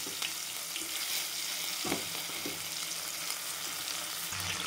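A tomato drops into hot oil already crackling with mustard seeds and cumin and fries with a soft, continuous sizzle and a few light taps, under faint background music.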